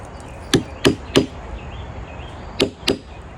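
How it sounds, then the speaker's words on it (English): A hammer strikes a nail punch to set a brad nail into a wooden stair-step plant stand. Five sharp, crisp taps land close up, three in quick succession, then a pause, then two more, over a faint background hiss. "just grab yourself a punch and a hammer, tap her down a little bit"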